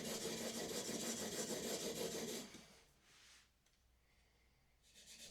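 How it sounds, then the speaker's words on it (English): A steel chisel being rubbed back and forth on a sharpening stone to flatten its back, a close rasping scrape for a few seconds that stops, then faint scraping resumes. "Simply rub it against the stone like this until all the shiny metal is scratched."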